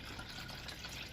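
Homemade turkey stock, simmered from the neck and trimmings, is poured into the bottom of a roasting pan as a steady, close, soft splashing stream with no talk.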